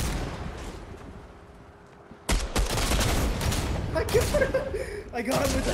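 Video game gunfire erupts after a quiet couple of seconds, loud rapid bursts and volleys overlapping continuously to the end.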